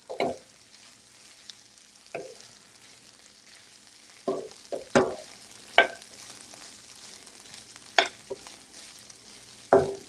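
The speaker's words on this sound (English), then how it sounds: "Oh, I love that sizzling." Garlic fries in a pan with chorizo and paprika, giving a faint, low sizzle under a series of sharp scraping stirs spaced a second or two apart.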